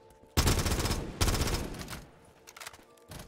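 Automatic fire from an AK-74U in Call of Duty Black Ops 3 Zombies on a custom map, two loud rapid bursts of close gunshots, the second trailing off, then a quieter pause before a faint final crackle.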